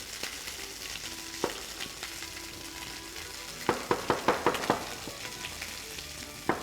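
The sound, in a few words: fish frying in a pan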